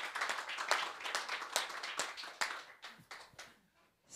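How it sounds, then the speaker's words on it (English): An audience claps for a speaker introduced at a session on inclusive cinema venues, the clapping dense at first and then thinning into a few scattered hand claps that fade toward the end. "Big applause for Sara, please"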